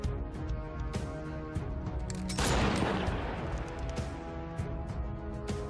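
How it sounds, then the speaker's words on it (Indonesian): Gunfire in a post-apocalyptic zombie drama scene: a sudden loud burst of shots near the middle, set over a steady dense bed of soundtrack and ambience, with no speech. "Kemudian Hope menembakkan senjatanya ke samping."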